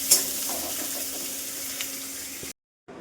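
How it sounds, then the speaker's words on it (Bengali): Food frying in a pan before curry is added, a steady close sizzle with faint stirring scrapes, cutting off abruptly near the end before a brief return. "এবার একটু ভেজে নিতে হবে এটা, তারপর তরকারিটা দিয়ে দিতে হবে"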